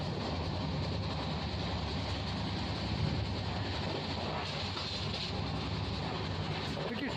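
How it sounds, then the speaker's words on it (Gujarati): Passenger train on the Okha to Nathdwara route running at speed, a steady loud rumble and rolling rail roar from inside the carriage, continuous with no breaks and no talk. "The speed of the train."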